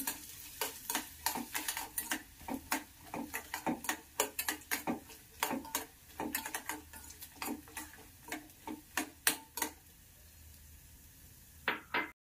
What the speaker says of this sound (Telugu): చిన్నగా కట్ చేసుకున్నానంటే కొబ్బరి ముక్కలను ఇందులోకి వేసుకొని కొద్దిసేపు ఫ్రై చేసుకోవాలి.